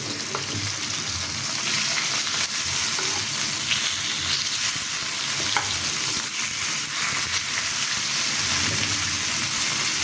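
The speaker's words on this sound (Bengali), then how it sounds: "মুরগির মাংসটা আমি এখানে উল্টিয়ে নিচ্ছি।" Chicken tikka pieces fry in a hot pan and are flipped over, producing a dense continuous sizzle with scattered pops and faint utensil clicks, close up and without any voices.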